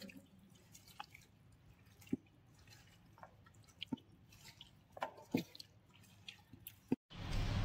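Hands work chopped vegetables and chili into sour curd, making quiet wet squelches and scattered drips at irregular intervals, with a sudden louder burst at the end.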